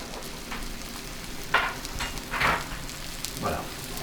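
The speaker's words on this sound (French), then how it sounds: "la poêle chaude à température, on entend bien, elle chante, elle est contente d'avoir l'appareil" Crêpe batter made with rice flour sizzles steadily in a hot frying pan, a soft continuous hiss broken by a few louder clinks and scrapes.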